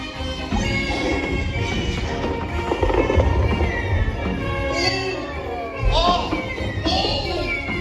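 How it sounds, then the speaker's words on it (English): Fireworks popping and crackling amid a busy, noisy scene, with voices talking and shouting over the bangs. "Enjoying the fireworks?"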